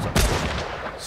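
A single loud, close gunshot in the World War II partisan shooter game Partisans 1941, a sharp blast followed by a rumbling, decaying tail.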